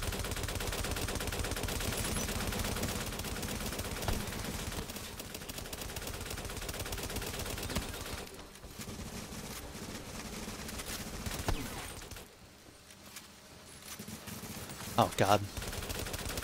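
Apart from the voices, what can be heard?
gunfire in a shooter video game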